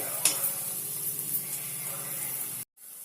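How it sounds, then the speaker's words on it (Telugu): Ginger and garlic frying in a pan, a steady close sizzle and hiss with faint stirring, holding level before cutting off abruptly near the end. "ఇది అల్లం వెల్లుల్లి మంచిగా వేగాలన్నమాట"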